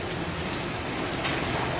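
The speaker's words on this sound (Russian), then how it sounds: "Гляньте, какой дождь." Heavy rain pours down outdoors in a dense, continuous hiss of drops drumming on surfaces, loud and unbroken with no voices.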